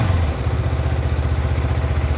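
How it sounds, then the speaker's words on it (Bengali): Yamaha R15 V4 motorcycle engine running at a steady low idle right after a kill-switch start, a close, continuous rumble with a fast even pulse and no distinct gear clunk. "স্ট্যান্ড তোলার পরে আমরা এটা কিল সুইচ দিয়ে স্টার্ট করলাম, দেখবো আমরা। প্রথম গিয়ার শিফট করেছি,"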